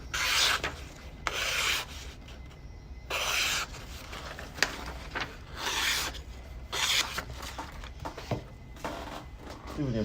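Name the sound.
knife edge sharpened on a whetstone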